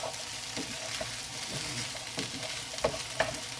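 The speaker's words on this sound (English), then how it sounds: "squirt it in. And just stir that in before you add anything else" A spoon stirs sauce into a sizzling pan of mixed bean chilli, steady frying hiss with soft scraping strokes and a couple of sharper taps, close and fairly quiet, no talk.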